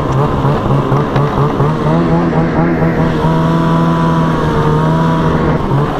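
A new Ski-Doo Summit snowmobile runs on a thin-snow trail with a steady, loud engine drone throughout. It holds an even pitch with slight rises and no pauses, close to the rider.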